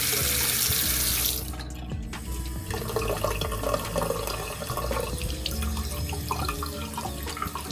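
Water running from a cruise ship cabin rain shower tap, a steady hiss of flowing water that changes character after a second or so as the handle is turned, then keeps running alone.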